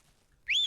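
A person whistles to call a dog from its kennel: one short, clear whistled note that rises and wavers, close by, after a moment of near silence.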